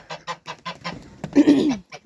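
Geese on a farm honk up close in a quick run of short, rhythmic calls, then give one longer, harsher honk and a final brief call.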